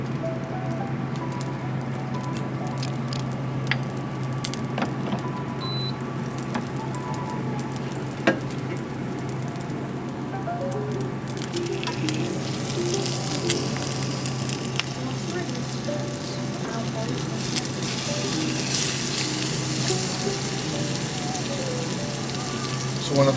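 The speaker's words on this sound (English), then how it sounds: "we do want this to be able to brown just quickly the liver pieces" Liver pieces searing in a hot pan with fat, a steady close sizzle and crackle with occasional pops, continuing evenly throughout under light background noise.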